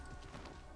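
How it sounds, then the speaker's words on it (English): Horse hooves clopping in Assassin's Creed Origins, a brief, soft burst of game-world trotting, faint and muffled. "Horse."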